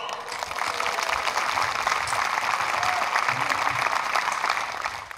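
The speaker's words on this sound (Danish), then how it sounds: "Er I klar til at klappe af alle musikerne?" An audience at a castle concert claps for the musicians in a dense, sustained round of applause. It swells in, holds steady for several seconds, then tapers, with no speech over it.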